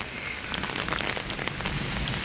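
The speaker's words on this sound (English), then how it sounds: "it's like raining really hard" Heavy rain pounds down outdoors in a dense, steady hiss of drops on surfaces, loud and close with no talking.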